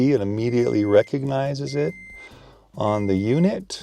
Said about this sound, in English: Sorry about the beeping, that's just my door.